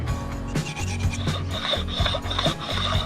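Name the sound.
sharpening stone rubbing engine header surface with Inox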